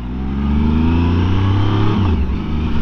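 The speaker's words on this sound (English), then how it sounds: "That nice triple engine purring away under there" Triumph three-cylinder motorcycle engine idling steadily up close, a smooth continuous low hum with no talking over it.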